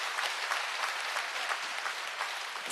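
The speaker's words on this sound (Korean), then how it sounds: "수고해주신 어린이들에게도 박수 부탁드릴게요" An audience at a concert marking a Catholic nun's 60 years of religious life claps steadily for children, a dense patter of applause at even volume from start to finish.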